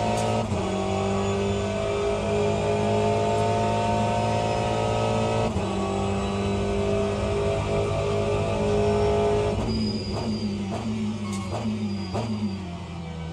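A race car engine in the Le Mans Ultimate racing simulator at the COTA circuit, a loud, steady high-revving drone that holds pitch, then drops through gear shifts and lifts as the car slows into a corner, heard alone without talk.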